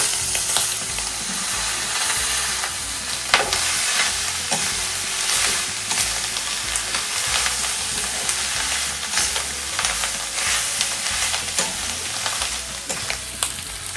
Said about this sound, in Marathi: आता ही वजरी घालतोय आपण. आणि आता वजरी छान परतून घ्यायची एकदा